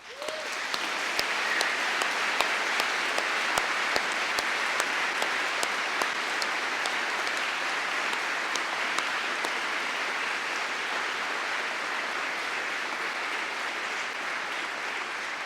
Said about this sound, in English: giving all of those people a very well-deserved round of applause